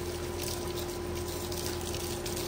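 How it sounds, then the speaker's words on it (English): A garden hose spraying water onto an outdoor HVAC condensing unit, a steady hissing splash with a constant electrical hum beneath, no pauses. "we're going to hose down the condensing unit and see what effect that has on our vents"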